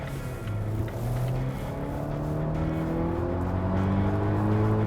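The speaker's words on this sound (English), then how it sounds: "So with the T6 powertrain, acceleration is really impressive." A 2018 Volvo XC60 T6 SUV accelerates hard, its engine note climbing through rising gear pulls with a shift between them, heard steadily from inside the cabin with no talk.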